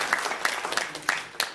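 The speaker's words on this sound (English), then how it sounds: "I think he deserves a good applause." Sparse clapping from a small audience at a talk on stress management and spirituality, a few distinct claps in a loose irregular rhythm, moderately close and fairly faint.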